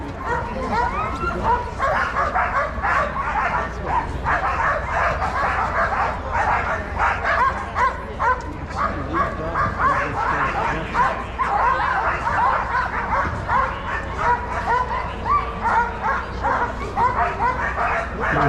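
Iditarod sled dog teams at the ceremonial start in Anchorage, Alaska, keep up a dense, continuous chorus of barks, yips and whimpers from many dogs close by.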